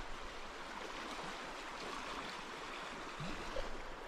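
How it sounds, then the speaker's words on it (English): River rapids on the River Wye rush in a steady, fairly quiet wash while a paddler moves through, with a faint splash or paddle stroke near the end and no talk. "And I think we're through another little rapidy bit."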